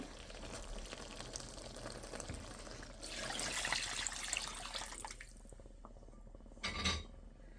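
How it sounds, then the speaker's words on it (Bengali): Hot water poured into a lentil mixture in a pan while cooking haleem, a broad splashing pour rising near the middle and then cutting off, followed by a brief splash. "এখন গরম পানিটা দিয়ে দেবো"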